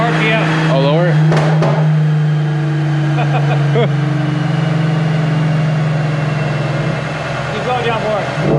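An Infiniti Q50 runs on a dyno with a steady, loud low engine drone at held revs, and people talk over it in short exchanges.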